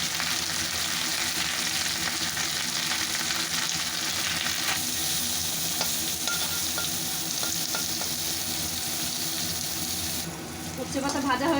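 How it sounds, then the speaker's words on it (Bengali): Bitter gourd leaves fry in hot oil in a home kitchen, a steady loud sizzle and crackle running throughout, with brief stirring clatter near the end. "এই তেলে দিয়ে দেবো উচ্ছে পাতা।"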